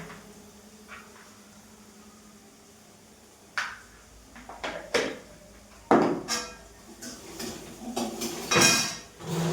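Food being stirred in a pan, with a spoon scraping and clinking against the metal in a few sharp, irregular knocks and rattles that grow busier toward the end, close by over a quiet background.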